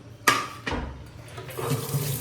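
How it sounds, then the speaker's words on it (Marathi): Dishes are washed in a kitchen sink under a running tap: two sharp clanks of utensils come first, then a steady flow of water over the dishes, close and fairly loud. "भांडे धुवून झालेले आहेत"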